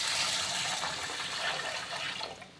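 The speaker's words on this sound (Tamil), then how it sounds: "இப்போ தண்ணி ஊற்றி" Water poured over millet grains in a vessel to rinse them, a steady broadband gush of running liquid lasting a couple of seconds, close and fairly loud, then tapering slightly at the end.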